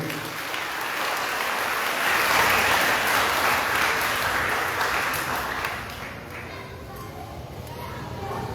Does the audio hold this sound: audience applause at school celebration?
yes